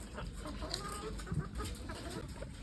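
Chickens on a poultry farm cluck softly nearby in short, scattered calls over a faint steady background hum, with no voices.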